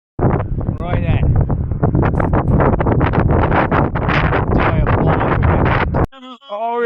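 Gusty headwind buffets the microphone on an uphill bike tour, a loud, continuous roaring rush with fluctuating bursts, ending abruptly as a voice begins speaking.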